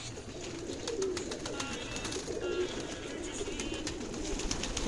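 Domestic pigeons cooing on a rooftop garden, soft low burbling coos repeating under a steady outdoor background hiss, moderately near and without talk.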